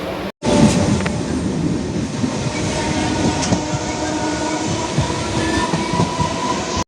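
A passenger train rumbles steadily nearby with a dense, continuous roar, faint wheel clatter and a brief squeal. The noise begins abruptly after a short gap and carries on without a break.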